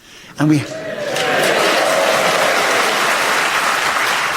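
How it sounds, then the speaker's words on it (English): A keen theatre audience at the Cheltenham venue in Gloucestershire breaks into applause as a show begins, a brief vocal sound giving way to loud, sustained clapping that fills the room. "we have a keen Gloucestershire audience here, ready to cheer us on our way as they welcome us and start the show with Alan"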